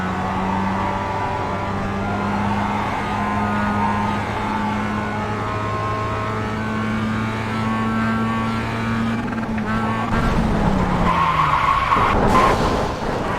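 A Mazda MX-5 drifting at Road America in iRacing, its tires squealing in a long, steady, tonal howl over the engine drone for about ten seconds. It ends with a louder scrubbing burst as the car straightens.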